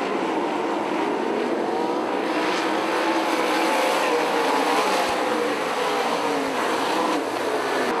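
Race cars roaring together on a dirt oval track just after the start of an IRA A-Main feature, a dense, steady engine drone at close range with no breaks.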